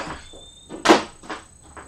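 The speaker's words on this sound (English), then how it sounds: "you can hear my purse clacking against the back of my door" Purse clacking against the back of a door, a few light knocks and taps, one louder clack in the middle, close by and otherwise quiet.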